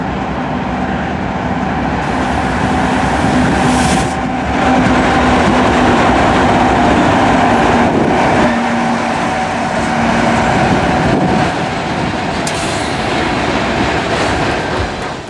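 A train rolls by at close range, a steady loud rumble with rail clatter that fills the whole stretch without pause, with no voices over it.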